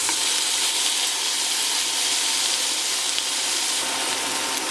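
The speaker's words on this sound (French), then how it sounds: "On le dépose dans la poêle et on surveille la cuisson." A burger patty frying in a pan gives a loud, even, continuous sizzle that holds steady throughout, with no voices.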